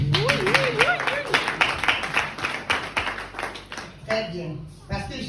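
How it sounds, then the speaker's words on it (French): Audience applauding, rhythmic clapping with voices talking and singing over it, a brief pause, then renewed clapping near the end. "Mesdames, messieurs, ça s'applaudit."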